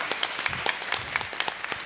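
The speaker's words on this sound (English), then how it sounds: "Give them a round of applause" A modest audience at a school board of education meeting claps in scattered, fairly sparse applause, individual claps distinct and not very loud.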